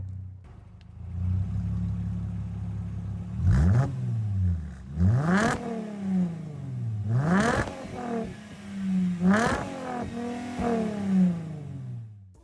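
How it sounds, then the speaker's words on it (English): A Mercedes E350 with its muffler removed revs repeatedly, the exhaust rising in several sharp, loud bursts over a deep idle and falling back between them, heard close and alone. "this fella simply removed his muffler, which gave the 350 a much meatier sound"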